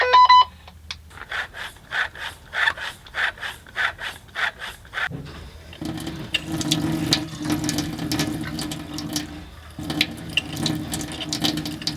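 A hand bicycle pump forces air through an RV's water lines during winterizing: about a dozen quick, rhythmic pump strokes, then a sustained, close sputtering rush and hiss as water and air blow out of the plumbing, with no talking.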